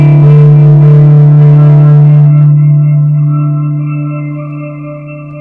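A guitar played on a clean tone through an affordable delay pedal lets one loud, sustained note ring out. The note is heard alone and fades slowly over several seconds with smooth echoing trails.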